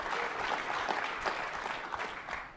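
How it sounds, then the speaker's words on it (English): Audience applause at a technical conference talk on PowerShell and Azure, a dense, steady wash of many hands clapping that holds throughout without a break. "Claps, please."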